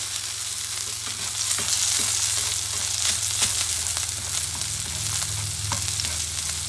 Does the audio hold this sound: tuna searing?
yes